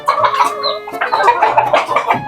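Chickens cluck loudly and close by, with a busy run of overlapping clucks and short calls from a group of fowl that include chicks, filling the whole moment without any talk.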